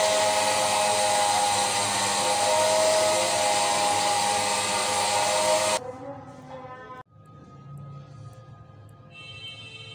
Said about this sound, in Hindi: इतनी देर से मैं सारे मेवे ग्राइंड कर लूंगी।